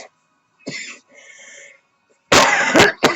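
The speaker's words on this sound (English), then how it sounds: "I need to blow my nose." A person blows their nose in a dusty room: a couple of soft airy snorts, a pause, then a loud, harsh, sputtering blow close by.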